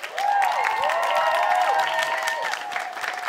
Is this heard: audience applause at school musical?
yes